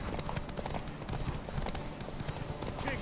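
Hooves clip-clop in a quick, even rhythm, a horse in the video game The Witcher 3 trotting close by over a hard surface with a dense background bed.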